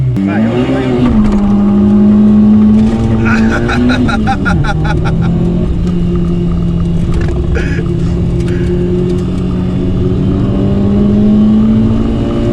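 A Peugeot 106 Rallye revs high and launches hard, its loud engine note climbing and holding steady close by while tires squeal briefly; people talk excitedly over the engine.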